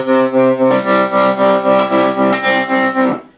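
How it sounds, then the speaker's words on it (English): A sustained electric guitar chord pulses rhythmically in volume from a Carr Bel-Ray amplifier's tremolo, about three throbs per second, loud and close, then cuts off. "This is for the tremolo."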